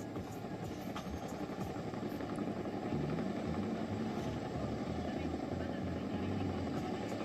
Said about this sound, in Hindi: चिनूक कैसे बड़ी झील के ऊपर आपको उड़ान भरता हुआ नजर आ रहा है।